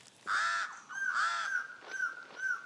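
Pied crows caw near their nest high in the treetops, a series of harsh, strident calls in uneven bursts, fairly close and clear with no talk over them.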